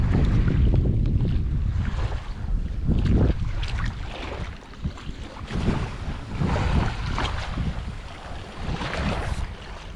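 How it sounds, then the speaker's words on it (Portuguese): Strong wind gusting and buffeting the microphone on a riverbank during a fishing outing, a loud continuous rumble that swells and eases without any talking. "E o problema é o vento, ó."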